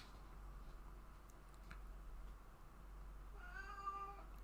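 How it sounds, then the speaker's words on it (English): Domestic cats meow a few times toward the end, faint and distant against a steady low hum in a quiet room. "if you hear the cats meowing in the background tonight"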